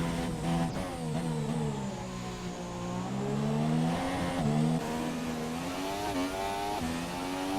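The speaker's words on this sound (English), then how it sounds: "The McLaren coming around just to finish this out lap here." Race cars from the F1 2017 video game drive on the Azerbaijan Grand Prix street circuit, engines whining loudly as they rise and fall through gear shifts and accelerate, with no talking.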